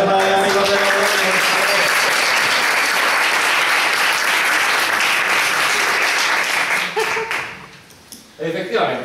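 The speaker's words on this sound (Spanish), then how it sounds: "Un aplauso para mi amigo el de Logroño." A crowd claps loudly and continuously for a guest at a live public event, the dense applause holding steady before thinning and fading near the end, with a voice briefly heard under it.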